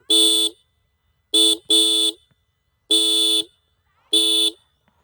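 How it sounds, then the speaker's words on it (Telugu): The horn of a TVS Apache RTR 310 motorcycle sounds in four bright, buzzy honks, including one quick double toot, with short silent gaps between them. It is loud and close, with no talking. "ఒకసారి హారన్ సౌండ్ అయితే విందాం"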